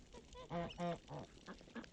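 Geese and white ducks honk and quack in a quick run of nasal calls, several voices overlapping at moderate distance on a farm.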